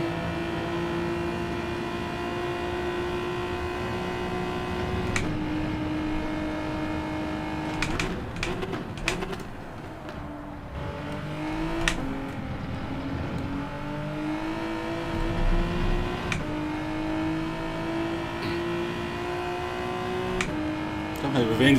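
Hyundai and GT-R race cars in Gran Turismo 7 on the Dragon Trail Seaside circuit, engines droning and shifting pitch through gear changes and revs for a long stretch, with occasional sharp clicks over the steady whine.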